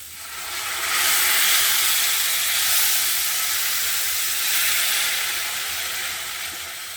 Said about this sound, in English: so I'm just going to add some boiling water, not a lot of water, because I don't want the gravy to be running